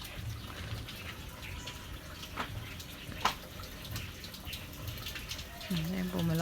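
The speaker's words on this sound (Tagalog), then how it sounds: "biglang lakas-lakas po nung tulo nung lambanog" Lambanog, a coconut spirit, drips from a still, a steady watery trickle that grows stronger and louder toward the end, heard close with soft background noise.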